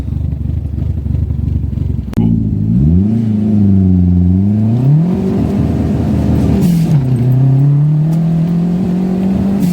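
Renault Super 5 GT Turbo with a wide-body kit revving hard and accelerating through several gear changes, its loud engine note climbing, dropping at shifts and climbing again, heard from inside the car without talk.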